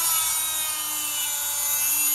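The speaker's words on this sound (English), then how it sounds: "I'm trying out this Dremel tool or Black & Decker." A Dremel or Black & Decker rotary tool, bought around 1992, runs continuously with a high, steady whine and buzzing hum, close and loud, no talk.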